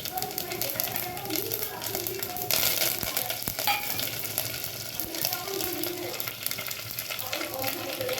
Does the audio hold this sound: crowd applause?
no